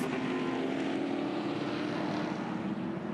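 A V8 Ute race car engine howls through a turn at Winton raceway, a steady, loud, droning roar bouncing off the rev limiter, continuous for the whole few seconds with no talk.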